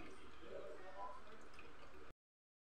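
Liquid drained off nata de coco for a fruit salad, a steady wet pouring and dripping rush lasting about two seconds before it cuts off abruptly.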